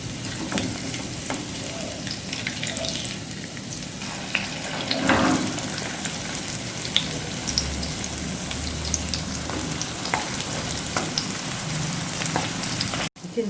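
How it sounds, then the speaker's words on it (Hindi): Raw banana cutlets fry in ghee on a low flame, giving a soft, continuous sizzle with scattered small pops and crackles, close up and without talk. "इस तरह से इसको धीमी आंच पर इसी तरह सिकने देंगे।"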